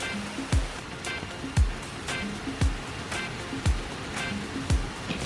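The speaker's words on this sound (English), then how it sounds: "Incredible amount of water flowing over it." Wachirathan waterfall at Doi Inthanon in Thailand sends a powerful, heavy flow of water over the rocks in a steady near roar, with periodic low surging thumps recurring about once a second.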